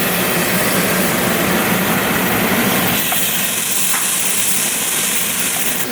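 Minced garlic sizzles in a hot pan with a loud, steady, dense hiss that runs unbroken and close throughout, easing slightly in the second half.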